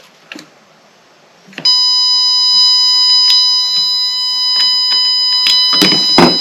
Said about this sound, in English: That alarm means it's shorted.